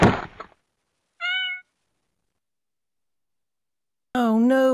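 A cat lets out two clear meows, a brief high one and then a longer, louder wavering cry, separated by silence after a short burst of noise at the start.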